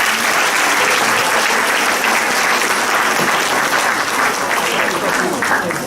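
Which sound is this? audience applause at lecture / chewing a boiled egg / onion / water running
audience applause at lecture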